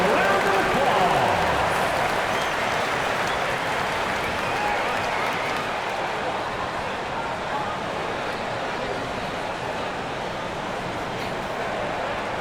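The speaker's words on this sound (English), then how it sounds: "Give yourself a round of applause." Crowd applause fills an NBA 2K basketball game arena, a broad steady roar of clapping and cheering that holds loud throughout and eases slightly over time.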